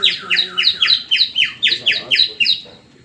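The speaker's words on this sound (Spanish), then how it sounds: "él empezó a escuchar el sonido de un ave." A bird call sound effect with a sweet, whistling character repeats about ten rapid, descending chirps in a regular rhythm. It is loud and close, and no one speaks over it.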